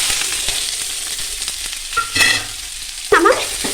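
Urad dal, garlic and chillies are sautéed in a pan over a low flame, giving a loud, close, steady sizzle with scraping stirs and a couple of brief squeaky scrapes near the end.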